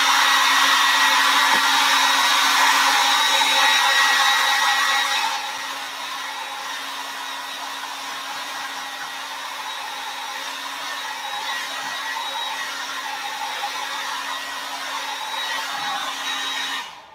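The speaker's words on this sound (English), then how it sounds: "when you're drying with the hair dryer, do not touch the hair dryer on the paper." Hair dryer blowing steadily close by while drying paint on paper, a continuous whooshing hum that drops to a lower setting partway through and then cuts off at the end.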